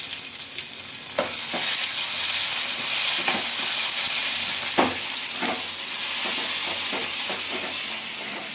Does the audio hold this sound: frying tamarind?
yes